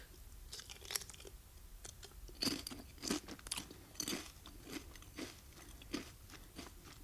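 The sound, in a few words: chewing crunchy potato chips into the microphone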